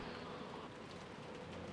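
Steady rain pours in a visual novel game scene, an even, dense hiss that is soft and unbroken throughout.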